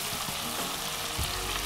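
Spinach is tossed into a hot pan of shrimp pasta sauce and stirred, giving a dense, even sizzle with a few soft thumps from the stirring.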